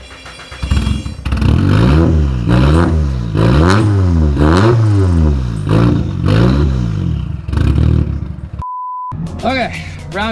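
A Nissan S13 engine cranks and catches, then revs again and again in rising and falling sweeps, loud and close. A short electronic beep cuts in near the end, and a voice speaks briefly over it.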